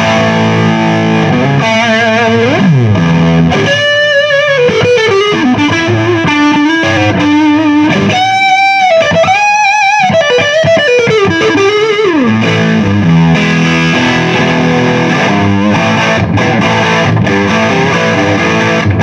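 An electric guitar runs through a 100 watt KT66 tube amp, playing loud, driven phrases with bends and sliding lead lines over sustained chords, saturated and continuous for the whole stretch with no talking.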